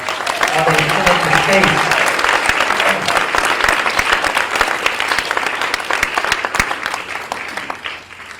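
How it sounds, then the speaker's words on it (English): At a school board meeting, the audience applauds the Alamo Heights High School Wind Ensemble for a band honors award. A brief voice is heard at the start, then loud, dense clapping holds steady before gradually thinning. "Let's give them a round of applause"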